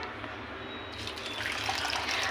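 Water pours into a container of twice-washed sabudana, a soft steady gush that grows louder and brighter partway through and keeps running to the end, with no voices.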